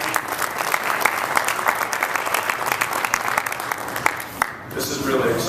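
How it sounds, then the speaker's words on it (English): Applause from an audience at the Bushnell Cup presentation, a dense wash of many hands clapping steadily for the whole stretch, loud and close, with a brief dip near the end. "how about a big round of applause for all of you for being here today."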